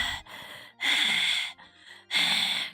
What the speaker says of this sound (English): The breathing grew louder.